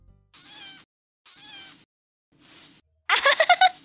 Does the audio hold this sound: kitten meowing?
yes